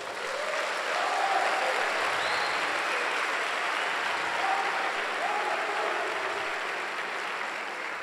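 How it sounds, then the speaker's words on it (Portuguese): Congregation applauding during a Sunday church service, dense continuous clapping that fills the room at steady loudness from start to finish. "Dá um aplauso a Ele."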